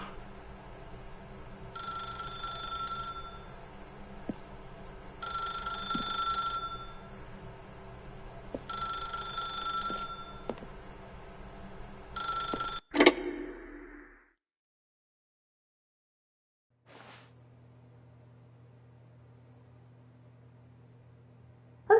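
A telephone rings in the video game Stanley 4 Spencer, giving four evenly spaced bell-like trills. A clunk follows as the receiver is picked up, then a low steady line hum continues.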